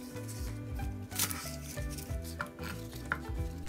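A knife chops rinsed chives into short lengths on a cutting board, giving a quick series of close, light thuds and taps with no talk.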